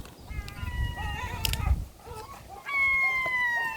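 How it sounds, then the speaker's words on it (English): Black-headed gulls give drawn-out, wailing calls at a beach, some close and clear, over a low rumble of wind or surf. "Black-headed seagulls"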